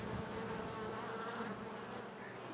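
Honeybees buzz at an opened hive that has just been smoked during a queen-cell inspection, a steady, soft, even drone with no talking.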